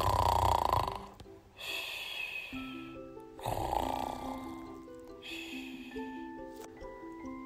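A cartoon duckling snores in sleep, a voice imitating long rasping inhales and softer breathy exhales repeated in a slow rhythm, with faint musical tones underneath.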